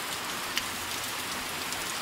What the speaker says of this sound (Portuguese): Se é chuva do meu Nordeste, se é chuva no Ceará.